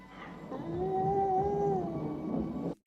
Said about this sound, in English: Again, this sound that sounds like a cat.